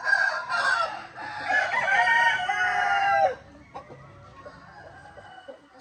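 An Asil rooster and Barred Rock hens in a farmyard: a loud nearby cock-a-doodle-doo for about three seconds, then a few softer scattered clucks.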